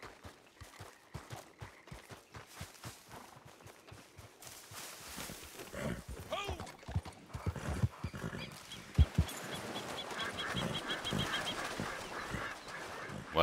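A horse in the video game Red Dead Redemption 2, its hooves clip-clopping in a steady, quiet rhythm at first, then fading under louder, busier in-game noise and rustling.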